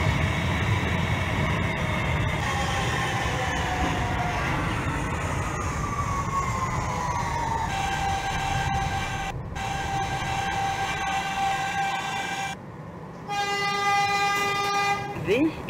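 A New York subway N Express train bound for Brooklyn runs in the OpenBVE train simulator game, giving a steady loud rumble with rising motor whine and brief gaps, under automated onboard announcements.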